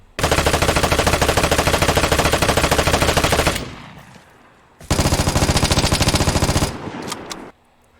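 A light machine gun in the video game Vigor fires two long, loud, close bursts of rapid automatic shots, separated by a brief pause with fading echo, with no talk.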